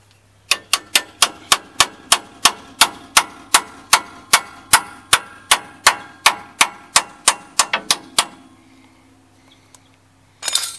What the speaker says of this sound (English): Get the hammer, knock it back in there.